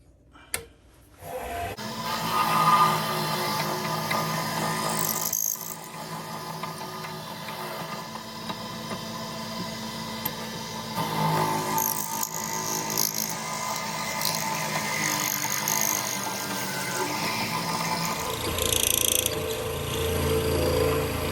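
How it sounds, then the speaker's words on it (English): A 33/64 drill bit boring out a hole in an acrylic pen blank, giving a steady grinding, whirring tone that runs continuously for about twenty seconds, fairly quiet and close, with no talk. "Now we're going to clean that up with a 33/64 and go to the mark right here."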